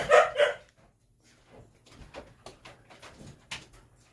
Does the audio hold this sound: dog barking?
yes